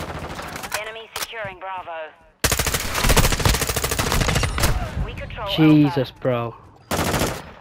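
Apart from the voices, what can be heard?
SCAR rifle gunfire in Call of Duty Modern Warfare 2 video game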